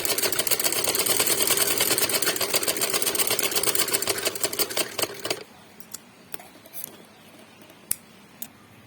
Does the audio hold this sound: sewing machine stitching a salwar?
yes